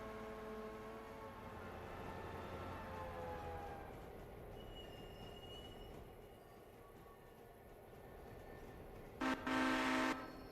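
A train horn blares in a short loud blast near the end, following a steady rumble of rolling rail cars.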